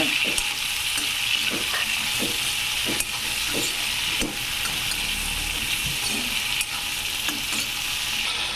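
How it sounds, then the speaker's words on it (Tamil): Tomatoes sautéing with brinjal and cowpea masala in a pan for a Kongunad-style kuzhambu, a loud, constant sizzle broken by a series of regular scraping stirs, close with no speech. "இப்போ இதில் வந்து தக்காளி சேர்த்து நல்ல கிளறி விடுங்க"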